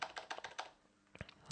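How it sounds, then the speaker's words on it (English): Rapid keystrokes clatter on a computer keyboard, a quick burst of typing, a short pause, then a few more taps up close. "Am I typing this right?"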